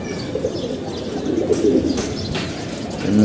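Pigeons coo in low, rolling murmurs that overlap continuously, fairly close, with a few faint chirps and rustles in the background.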